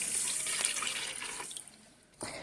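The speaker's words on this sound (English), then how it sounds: "Now it's time to add your milk. And we're just going to add our milk in" Milk pours into a roux for potato soup, a soft liquid splashing and trickling that fades over about two seconds, faint and close, ending with a brief clink.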